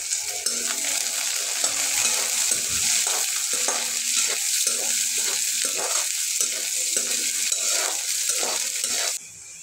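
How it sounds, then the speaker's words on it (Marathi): Onion and coriander being stirred into a sizzling frying-pan mix for a fenugreek-leaf dish, with close scraping spoon strokes over a continuous fry sizzle that cuts off near the end. "कांदा थोडा, आणि थोडीशी कोथिंबीर, सगळं व्यवस्थित मिक्स करून घेऊ."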